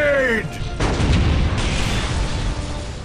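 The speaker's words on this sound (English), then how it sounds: "Now that's an explosion!" A loud, booming explosion from the Warhammer 40,000 strategy game Dawn of War: Winter Assault, erupting after a brief tonal sound and rolling into a sustained, noisy rumble that fills the whole clip.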